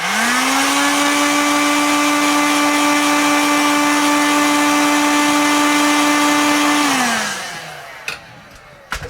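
A heat gun runs at a loud, steady whine while warming the back of an iPhone to soften battery adhesive, then winds down with its pitch dropping, followed by a few faint clicks.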